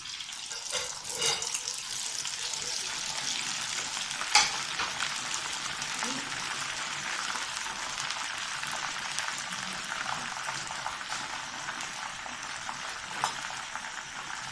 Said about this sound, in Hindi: अब जो पहले हमने चिकन फ्राई किया था 1 टाइम, उसको हम 2nd टाइम फ्राई करते हैं।